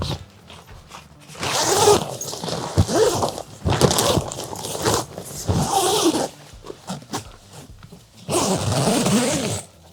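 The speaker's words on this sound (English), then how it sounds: "And then we've got the front panel. Again, if it's anything like the AXS I own, should zip on nice and quickly with no fuss" Several long, loud zipper runs as the front panel is zipped onto a Sonik AXS XL fishing bivvy, coming in close, rasping bursts separated by short pauses.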